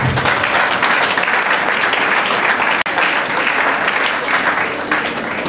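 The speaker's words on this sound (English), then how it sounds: "A round of applause, please." Loud, sustained round of applause from an audience at a formal civic governance event in Nigeria, steady dense clapping filling the whole stretch with a faint murmur underneath.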